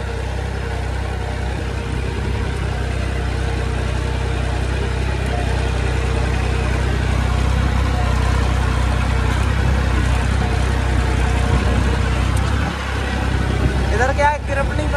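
A tractor runs steadily on soft, sinking soil beside a dug sewer line, its engine a constant close drone, with a voice talking over it.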